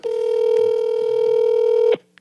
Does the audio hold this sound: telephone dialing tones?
yes